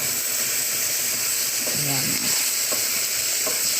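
Chicken fries in a pan with no cooking oil, giving a steady hiss and sizzle with occasional stirring scrapes, while a voice speaks briefly over it.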